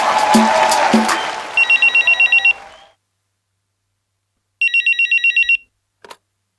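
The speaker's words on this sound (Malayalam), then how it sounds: "ഫോൺ നോക്കട്ടെ" A telephone rings with two loud electronic trilling bursts separated by a pause, following a stretch of noisy indoor sound at the start, with a short click at the end.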